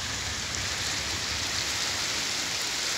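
Steady downpour of rain and hailstones over Kathmandu, an even, roaring wash of impacts on roofs and ground, unbroken and close, with no voices.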